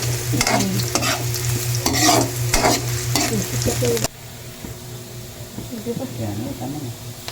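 Boktit being sautéed in a pan gives loud sizzling with repeated scraping stir strokes and a constant hum, then drops to quieter frying with softer stirring; a voice talks over the first part.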